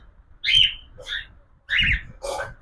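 Several short, bright cockatiel chirps in a loose sequence, close and clear over a quiet background, with no voices.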